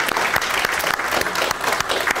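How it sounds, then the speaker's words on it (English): An audience at a school quarterly program applauds, a dense wash of many hands clapping steadily and fairly loud for a couple of seconds, with no voices standing out. "y'all give yourself applause as well."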